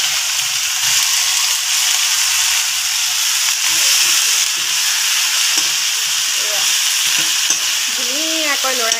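Fiddlehead ferns and potatoes frying in a pan make a loud, continuous sizzle up close, broken by occasional stirring scrapes and clinks, with a faint voice briefly audible near the end.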